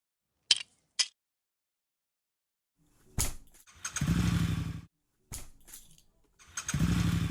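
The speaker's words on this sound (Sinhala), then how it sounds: "අම්මට සිරි පුතේ බයික් එක ස්ටාර්ට් වෙන්නේ නැහැ නේ" A kick-started motorcycle fails to start: two sharp clicks, then repeated sputtering engine bursts that catch briefly and die, fairly close and loud.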